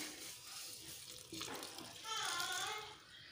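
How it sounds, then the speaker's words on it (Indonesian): Cold water pours from a tap into a warm mixture of homemade livestock feed, a splashing gush swelling in the second half over a quiet room, with faint voices nearby. "And add the cold water"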